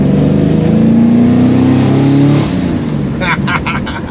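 A Holden HT fitted with a swapped-in V8 engine drives along, its loud rumbling exhaust holding a rising pitch as it accelerates before easing off, with brief higher tones near the end.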